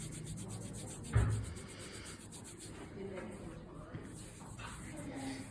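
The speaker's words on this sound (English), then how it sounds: "Now to activate our K-tape glue, you just need to give a good rub down." Kinesiology tape pressed onto a knee is rubbed down firmly by hand to activate its glue, making a quiet, steady brushing friction with one brief soft bump near the start.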